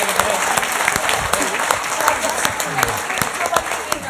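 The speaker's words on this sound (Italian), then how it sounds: "Facciamogli un applauso, bravo." An audience claps together in a sustained burst of applause, with a voice speaking over the clapping.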